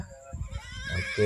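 A horse neighs from a sound imitation game app, a short whinny played through a speaker with a brief spoken word over it.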